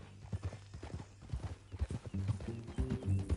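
A horse's hooves clip-clop in a steady rhythmic gait inside a Western video game, close and clear, with a brief tonal whinny-like sound and low game noise layered in toward the end.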